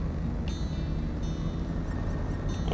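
A Hummer H2 in the video game SnowRunner struggles through a patch of mud, a steady low engine drone running continuously with wheel-spin noise and no talking.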